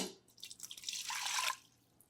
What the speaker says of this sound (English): So to our Instant Pot, I'm just going to add 1 cup of water,